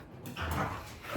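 Free-roaming dogs make a brief burst of yips, whimpers and a short bark close by, rising to a louder bark at the end.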